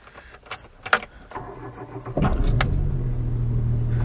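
Keys jingle and a Daewoo Matiz's ignition clicks before the engine cranks and catches, then settles into a steady idle.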